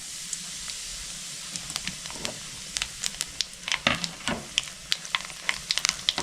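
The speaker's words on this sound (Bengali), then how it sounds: "মাছ ভাজার তেলে আমি ফোড়ন দিয়ে দিচ্ছি, 2টো শুকনো লঙ্কা আর ছোটো চামচের 1 চামচ কালো জিরে।" Dried red chillies and black cumin crackle and sizzle in hot mustard oil left from frying fish, with sharp popping bursts over a steady hiss, close and fairly loud, no talking.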